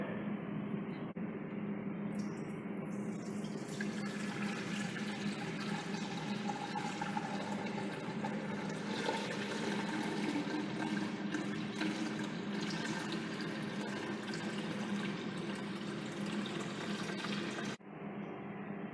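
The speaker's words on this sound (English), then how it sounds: "Next, we are going to fill at least half of the makeup water tank" Distilled water pours steadily into a benchtop cooling tower's makeup water tank for a long stretch, a continuous rushing, gurgling fill that stops abruptly near the end.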